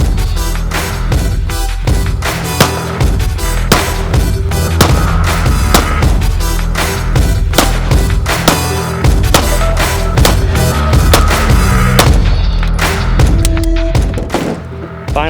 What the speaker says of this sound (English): The goal today is to shoot all 10 rounds.